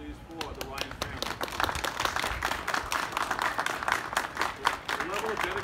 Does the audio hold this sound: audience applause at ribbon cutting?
yes